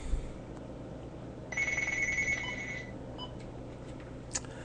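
A telephone rings once in a room, a steady electronic trill of about one and a half seconds at moderate level, followed by quiet background hiss and a faint click.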